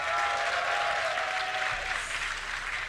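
A crowd at a DreamHack StarCraft esports match applauds and cheers in a steady, loud roar of clapping and voices, with a faint tonal hum running beneath.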